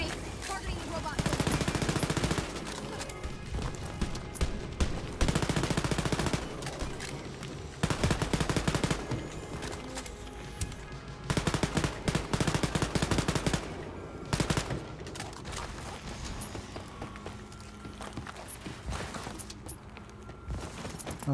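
Submachine gun hip fire in the Wolfenstein: Youngblood shooter, loud rapid bursts of automatic gunfire repeating in several long volleys, with impacts and game effects around them and no talk over the shooting.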